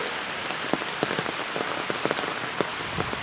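Heavy rain pouring steadily onto village roads with running water, a dense even patter with scattered louder drops striking nearby surfaces, no voices.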